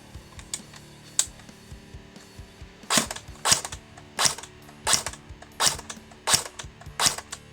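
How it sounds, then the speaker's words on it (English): CYMA CM060 P90 airsoft electric gun shooting .25 g BBs through a chronograph: seven crisp single shots at a steady rhythm, close and fairly loud, with quieter clicks and handling before them and no talking. "So this gun is firing at 280 on .25s, which is around about 320 on .2s."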